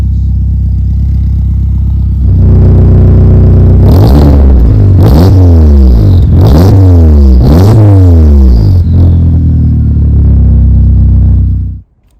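Volkswagen GTI with a full 3-inch exhaust into a straight-through Magnaflow muffler revving hard in four or five sharp blips over a steady loud idle, close and alone, then cutting off.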